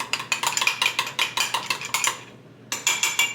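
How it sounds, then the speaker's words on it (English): Utensil scraping and clinking against a bowl as ingredients are stirred together, a steady run of rhythmic strokes that pauses briefly near the end before resuming, close and fairly loud with no talking. "I just stir this together"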